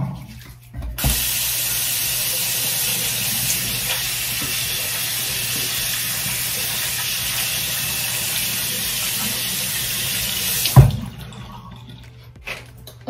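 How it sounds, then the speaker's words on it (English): A tap runs steadily for about ten seconds while hands are washed, a close continuous water rush that starts abruptly and stops with a clunk, followed by quiet room noise. "let me wash my hands."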